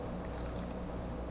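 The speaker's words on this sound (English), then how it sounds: "I'm going to pour some of that in here." Juice is poured from a pot into a dish, a short, faint, steady liquid trickle heard alone.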